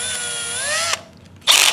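A handheld electric power drill fitted with a 1/8 inch bit whines steadily at close range, rising slightly in pitch before stopping, then after a short pause a brief loud burst of drilling or chuck noise follows.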